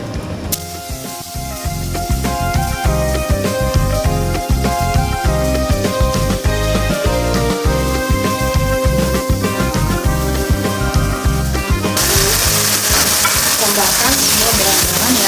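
Blended spice paste sautéing in hot oil for Batak-style pounded cassava leaf curry, a loud, steady sizzle and spatter with repeated stirring scrapes throughout, growing brighter and hissier near the end.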